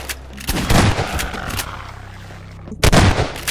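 Loud gunshots fired in Garry's Mod during a horror map, as a rapid burst of shots, then a pause, then another close burst, with no talk over them.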